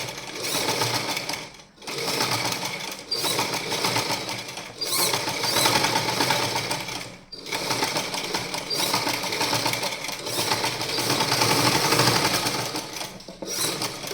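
A sewing machine stitches a neckline with a fast, continuous mechanical chatter, close and loud, pausing briefly every few seconds before running on again.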